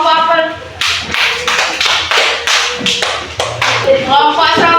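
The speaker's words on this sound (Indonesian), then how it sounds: "Tepuk tangan dulu untuk kelompok apel." A classroom group claps for the apple group, with a burst of rhythmic hand claps and taps that rise and fall, while a teacher's voice talks in between and over them.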